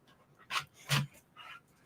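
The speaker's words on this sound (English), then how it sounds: "My dog's trying to get these treats up here." A dog panting in short, breathy bursts close by, three quick huffs while it tries to reach treats set up high, faint and with no talking.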